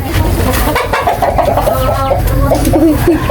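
Chickens cluck loudly and continuously inside a coop on an integrated farm, with overlapping calls packed closely together over a dense, noisy background.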